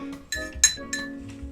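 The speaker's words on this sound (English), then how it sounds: "just give it a little stir" Spoon clinking against a glass while stirring sugar and leftover fruit with rind, a few bright clinks over soft low background, close and fairly quiet.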